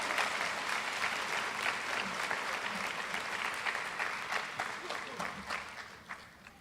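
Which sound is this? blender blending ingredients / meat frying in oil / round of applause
round of applause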